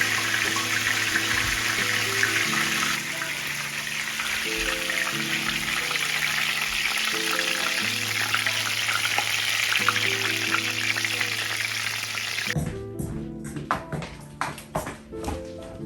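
Vegan food deep frying in hot oil gives a steady, dense crackling hiss that runs under a melodic music bed, with the texture shifting near the end.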